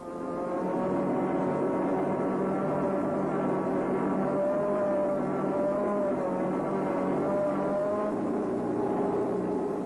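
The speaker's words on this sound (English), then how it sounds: "reverse down the slope using the engine to provide the braking retardation" A Land Rover reverses down a slope using engine braking, its engine giving a steady, low, droning hum with a faintly wavering pitch and no throttle bursts, continuous and moderately close throughout.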